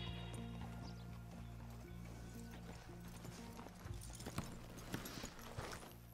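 Horse hooves clip-clop at a walk as the rider arrives at the stables in Red Dead Redemption 2, a steady close rhythm over a low ambient hum, with a brief snort or whinny near the end.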